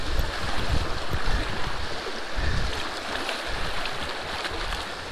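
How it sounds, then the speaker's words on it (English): Rushing river rapids churn around a small boat on a smallmouth bass fishing trip, a steady loud broadband wash of water with low thumping surges, no voices. "Shoot these rapids."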